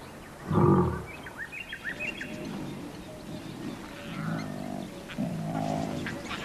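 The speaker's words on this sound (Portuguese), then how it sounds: "Seus rugidos informam aos outros leões que o território está sendo reclamado." A lion's deep roar bursts out close by, followed by lower grunting calls, with faint bird chirps in the background.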